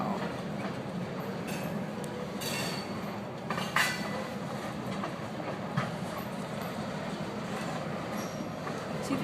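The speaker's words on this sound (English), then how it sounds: "See the choo-choo train?" A train rumbles past at moderate distance with steady broadband noise, faint clicking and brief squeals over its length, with no talking.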